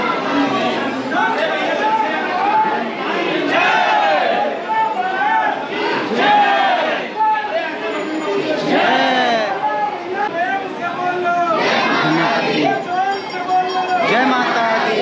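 A crowd of pilgrims queues at Mansa Devi temple in Haridwar, a loud, continuous wash of overlapping voices, calls and chatter with no pause, close around the listener.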